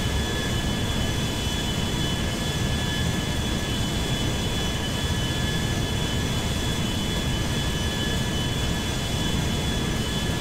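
Airbus A350 jet engines in the video game GTA 5 give a steady, dense roar with a thin high whine, continuous and unchanging throughout.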